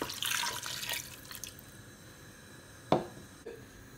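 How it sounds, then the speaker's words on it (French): Water splashes and drips into a cooking pot on the heat while an oxtail dish is being made, a busy pour early on, then brief louder splashes and drips near the end. No one speaks. "On met un peu de l'eau."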